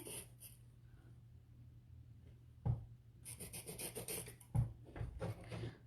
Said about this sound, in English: I'm just going to use a chalk marker on this one.